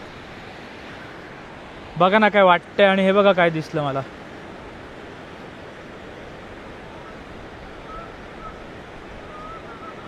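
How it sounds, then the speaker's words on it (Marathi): Steady wind and flowing water fill a riverbank outdoors as a broad, even rush, with someone briefly speaking close to the microphone early on. "आणि मी पोचलो आहे नदीच्या किनारी."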